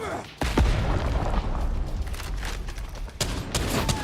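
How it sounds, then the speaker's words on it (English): A grenade blows up in a Havoc-40 video game, a sharp loud boom followed by a dense rumbling roar and scattered gunfire, with a second heavy burst later, no talk. "Grenade out!"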